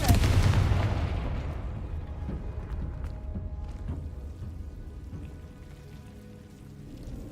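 A Confringo spell blast in Hogwarts Legacy erupts loudly at the start, then decays into a long crackling, rumbling tail that fades over several seconds.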